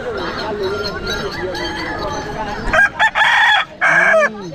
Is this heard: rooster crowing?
yes